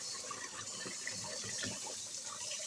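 Cool tap water runs steadily into a kitchen sink or bowl to soak vegetables, a close, even gushing and splashing stream with no talk.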